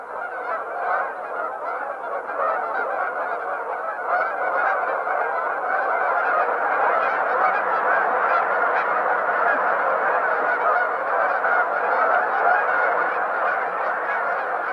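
A large flock of geese feeding in cornfields near Horicon Marsh honks continuously, a dense, steady clamor of many overlapping calls that never pauses.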